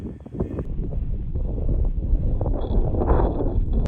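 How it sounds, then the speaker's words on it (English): Strong gusty wind by the ocean among sand dunes roars and buffets the microphone with a low, rumbling rush, steady and loud throughout with no talking. "Seems like it's always windy by the ocean."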